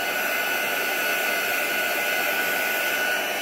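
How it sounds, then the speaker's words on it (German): A hair dryer blows to melt embossing powder on paper, a loud, steady, close-up whooshing roar with a constant whine that holds unchanged throughout. "Und man durch das Föhnen dem Papier Feuchtigkeit entzieht."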